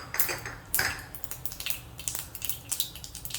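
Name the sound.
mustard seeds spluttering in hot oil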